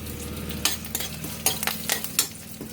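Dried red chilies and curry leaves crackle and sizzle in hot oil, a steady frying hiss broken by several sharp stirring scrapes, close and with no talking.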